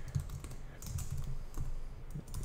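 Rapid typing on a computer keyboard, with dense irregular key clicks and a steady patter of strokes continuing throughout, close to the microphone.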